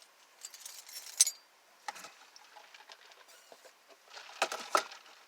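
Keys jangle faintly as they are taken out of a parked car outdoors, a few short metallic clinks and rattles spread across the moment, with quiet surroundings.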